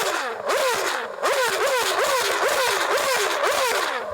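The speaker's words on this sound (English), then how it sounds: "is it as impressive as a Formula One naturally aspirated V8 revving?" Formula One car with a naturally aspirated V8 engine revving hard, repeated rising and falling sweeps of high-pitched engine note, loud and close, with sharp gear-like dips between bursts and no talk.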